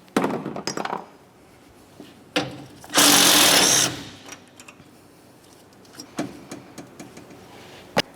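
A power tool spins off the 12mm-headed radiator mount bolts on a 2009-2010 Pontiac Vibe, one loud steady burst of about a second, with clinks and knocks of the bolts and parts around it.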